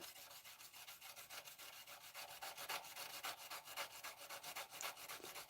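Steady, close scraping as a blade edge is rubbed back and forth on 400 grit abrasive, the even rhythmic strokes continuing throughout at a quiet level.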